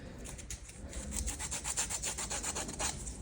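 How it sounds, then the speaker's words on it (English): An emery board rasps back and forth over a handmade Apple Watch strap, a quick rhythmic series of close scratchy strokes, about a dozen in steady succession, with no voices. "Sand it in rough with this emery board."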